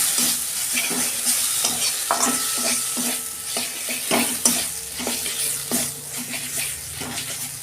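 Tomato and spices are stir-fried in a pan with steady sizzling and repeated scraping strokes of a spatula, a close, rhythmic series of stirs over continuous frying hiss.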